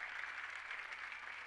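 Audience at a ceremony for a former Governor of Gujarat clapping in welcome, a faint, steady wash of applause from a distance with no breaks.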